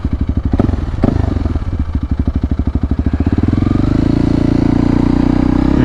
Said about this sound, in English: the newest modification of this bike is a new Black Widow full system exhaust